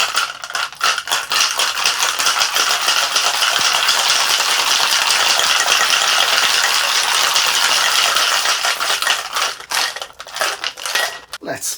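Cocktail shaker holding ice, rye, orange juice and Strega shaken hard, a loud close rattle of ice that starts with a few jolts, runs as a dense continuous churn, then breaks into separate knocks.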